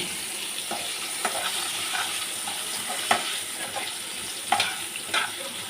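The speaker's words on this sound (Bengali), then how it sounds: "আর এদিকে এঁচড়ের আলুটা ভেজে নিচ্ছি।" Potatoes and young jackfruit fry in a pan with a steady close sizzle, broken now and then by sharp scraping stirs and small clacks of the spatula.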